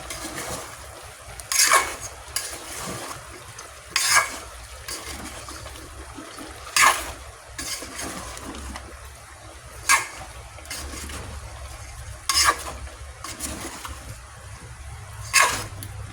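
Vegetables cook in a pot while a spoon stirs them in slow, regular strokes. Each stroke makes a brief wet scraping swish about every two to three seconds over a low, steady simmer.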